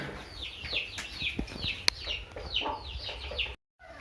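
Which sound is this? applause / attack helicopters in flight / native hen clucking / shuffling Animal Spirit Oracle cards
native hen clucking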